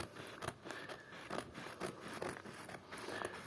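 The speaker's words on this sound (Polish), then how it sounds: "Dolne po prostu nożyczki w fudze się prowadzą." Scissors cut fabric cover material for a winter palm cover along a seam, a series of close, crisp snipping strokes spaced irregularly with soft rustling of the material between cuts.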